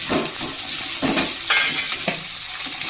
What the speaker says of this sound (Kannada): ನಂತರ ಚೆನ್ನಾಗಿ ಫ್ರೈ ಮಾಡಬೇಕು ಎಣ್ಣೆಗೆ ನಂತರ ಜೋಳ ಹಾಕ್ತಾಯಿದ್ದೀನಿ